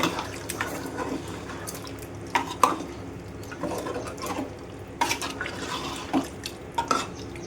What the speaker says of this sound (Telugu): ఇదంతా మిక్స్ చేసుకుందాం